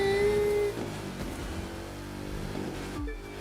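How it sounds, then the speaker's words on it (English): A supercharged car engine in The Crew 2 racing game whines at a high steady pitch that fades after a moment. The engine drone carries on with shifting revs and drops away sharply near the end. "that is supercharged. I hear the whine in it."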